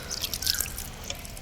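Water from a hose or can drips and patters onto the soil at the base of capsicum plants on a farm plot, a light, close splashing with brief bursts, with no voices.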